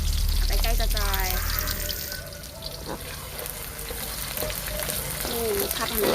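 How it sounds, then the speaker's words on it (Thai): Noodles stir-fried in a pan make a loud, continuous sizzle, with scraping stir strokes throughout and a few brief bursts of splashing and clinking. A voice is faintly audible in the background. "ผัดให้มันได้ทีมันหอม"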